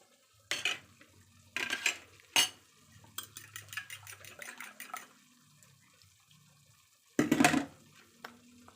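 Pots and utensils clatter loudly in short bursts while egg goes into a pan with squash shoots, with brief stirring scrapes between quieter gaps.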